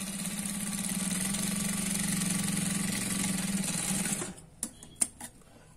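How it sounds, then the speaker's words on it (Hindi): A sewing machine runs steadily for about four seconds as it stitches a Punjabi dress neckline, a close, even mechanical whir, then stops and gives way to a few light clicks and handling knocks. "इसके ऊपर आपको सिलाई लगा के दिखा रहे हैं"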